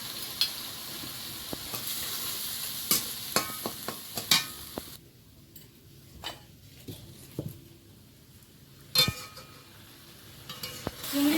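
Spices are being fried and stirred in a pan, with a continuous sizzle broken by scattered spatula scrapes and clinks. The sizzle is fuller at first and then drops quieter midway, with brief louder stirring hits later.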